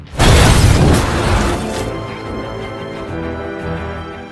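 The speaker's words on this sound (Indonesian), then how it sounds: "menaruh sebuah granat pada mobil musuh sebelum pada akhirnya mobil tersebut meledak" A car blown up by a grenade in a film bursts with a loud, sharp blast that crackles for about a second and a half, then fades into a lower rumbling tail.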